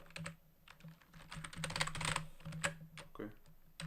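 Rapid clicking of a computer keyboard while someone codes, steady irregular keystrokes close by, with brief speech passing over the typing.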